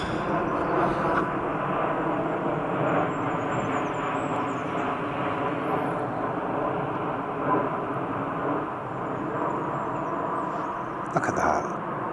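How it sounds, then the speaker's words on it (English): Low-flying airliners on landing approach to Heathrow pass over Kew Gardens, a steady broad roar of jet engines filling the whole stretch, loud and continuous with no talk over it. "So the planes are landing at Heathrow, so they're getting very low."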